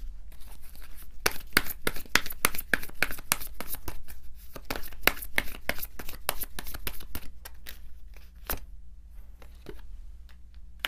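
Tarot cards being shuffled by hand in crisp, irregular bursts of snapping and riffling, close and fairly loud, with faint handling sounds in between.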